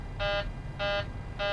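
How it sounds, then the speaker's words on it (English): A takeoff configuration warning in a flight simulator cockpit sounds as three evenly spaced electronic buzzer beeps, sharp and clear over a low background rumble, with no one talking. "it should give us an alarm because we're not in takeoff config"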